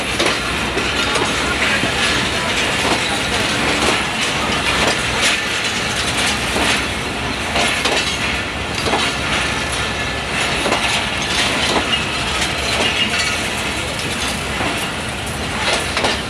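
A GU40 locomotive hauls a very long train rake on the Jhelum to Karachi route in Pakistan, giving a loud, close, steady rumble with rhythmic clickety-clack of wheels and a few faint squeals.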